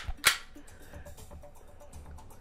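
A single sharp, loud crack from an airsoft gas pistol fired with a gas magazine, close by, followed by quiet room tone with faint background rustle.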